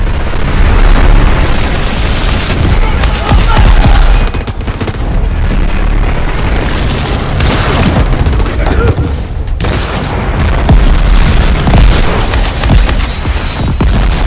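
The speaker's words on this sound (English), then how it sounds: "A true hand cannon. Each slug packs a hell of a punch." Dense gunfire and explosions from the Crackdown 3 video game, with a hand cannon among the weapons; loud, continuous rapid shots and booming blasts with only brief lulls, and game voices mixed in.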